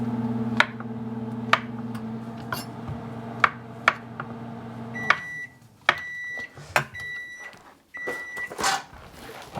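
A microwave oven runs on fish defrost mode with a low steady hum and regular ticks, then the hum cuts off and a series of sharp electronic beeps follows, close by with faint kitchen clatter.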